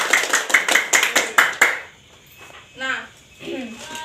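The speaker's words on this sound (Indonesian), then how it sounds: "Tepuk tangan dulu." A classroom of students claps hands together in about ten quick, sharp bursts, then the clapping stops and a few voices speak quietly.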